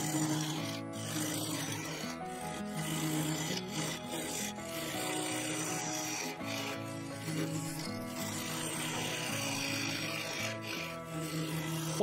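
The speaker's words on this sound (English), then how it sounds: "I was cutting into end grain, and the wood was very dry" A carbide lathe cutter scrapes into dry yew end grain, giving a continuous rough, rasping hiss over the low hum of the spinning lathe, with the pitch shifting as the cut varies.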